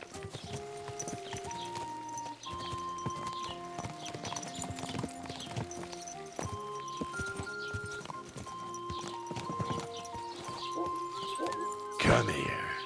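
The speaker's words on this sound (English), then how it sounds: "Don't you know how to ride a horse?" Clip-clopping hooves and a brief horse whinny from a ridden horse in Kingdom Come Deliverance 2, a medieval game, steady and fairly close under a continuous musical score with spoken dialogue; a louder burst near the end.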